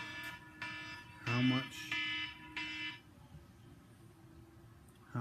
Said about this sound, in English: I gotta reset these alarms